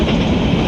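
A passing train rumbles and clatters loudly and close by in a short, continuous burst with no voices.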